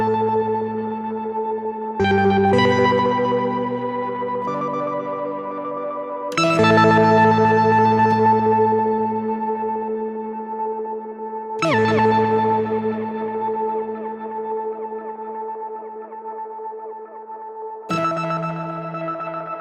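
Sustained chords from a Newfangled Audio Generate software synthesizer patch shaped by its onboard delay and reverb, with several swelling notes struck every few seconds, each ringing out with long echoing tails and chorus-like shimmer; no talking.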